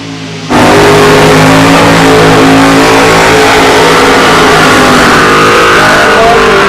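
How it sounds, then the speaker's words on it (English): Scott Rod Gassers drag racing cars roar into a tire burnout at a drag strip, their engines snarling at a loud, sustained high rev with tire squeal close by. "They do one hellacious amount of tire burning at each and every race they go to."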